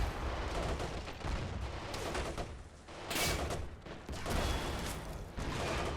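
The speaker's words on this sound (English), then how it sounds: "Oh, there goes that Thompson again. I don't know what it is. There's something about the sound." Sustained gunfire from a Thompson submachine gun during a World War II fort defense at Tobruk in a video game, dense rapid bursts mixed with other battle fire and booms, loud throughout with a heavier surge in the middle.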